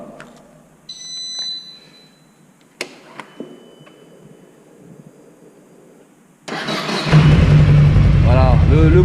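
A Yamaha VMAX 1700 motorcycle engine cranks and fires up in the final seconds, settling into a loud, steady idle after a quiet stretch of small handling clicks and beeps.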